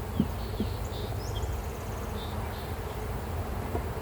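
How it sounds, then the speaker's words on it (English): A steady, soft hum of honey bees buzzing around a hive, continuous and close, with a few faint chirps rising above it. "These bees are getting a tad bit louder."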